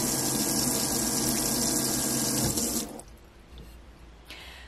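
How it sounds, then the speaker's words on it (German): A repaired water tap runs in a camper van, water gushing loudly with the hum of its pump, then shutting off abruptly into quieter room noise. "der Wasserhahn funktioniert zum Glück wieder"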